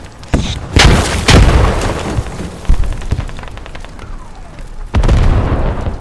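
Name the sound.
grenade explosion in a video game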